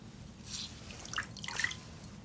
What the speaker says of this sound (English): I'm just dampening a cloth for you.